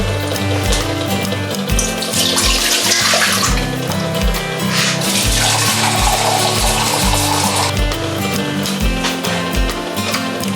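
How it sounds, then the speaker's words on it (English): Tap water runs steadily into a pot, filling it for boiling potatoes in a home kitchen, a loud continuous splashing rush that persists throughout with some rhythmic low thumps underneath. "I'm going to get my water started and get this hot so I can put in the potatoes."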